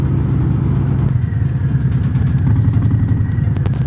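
A Harley-Davidson Heritage Classic motorcycle engine rumbling steadily while riding, loud and close with a deep throbbing pulse throughout.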